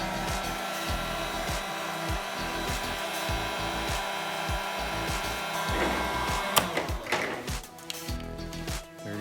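A heat gun blows steadily on vinyl wrap for car trim, a continuous close whooshing hiss with faint handling sounds underneath. Near the end there is a clack, and the airflow briefly wavers.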